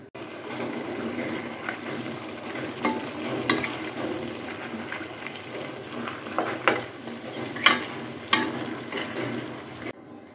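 Ash gourd and meat cook under a lid on the heat, giving a steady low sizzle and bubbling with occasional soft pops and lid or spoon clinks, close and moderately quiet.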